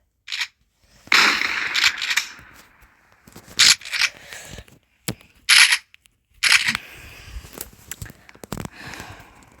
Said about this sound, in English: The sad thing is about the shotgun in this game, you cannot slam fire it.